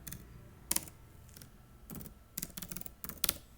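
Typing code on a computer keyboard: a few quiet, scattered clusters of key clicks with pauses between them, close and dry, with no talk.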